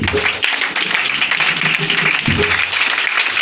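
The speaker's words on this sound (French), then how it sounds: "Est-ce que tu peux l'acclamer, s'il te plaît?" A church congregation claps and applauds together, a dense, steady wash of hand claps with voices mixed in and a few louder bursts rising through the crowd noise.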